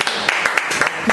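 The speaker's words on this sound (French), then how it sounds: "à toute l'équipe quand même de bien vouloir applaudir." A small studio team applauds on a French news-style show: a brief burst of sparse, close claps at an irregular rhythm, a handful of sharp hits over about a second.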